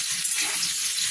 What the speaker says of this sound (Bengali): আরও একটু ভাজবো আমরা